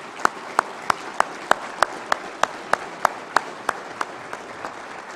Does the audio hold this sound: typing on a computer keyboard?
no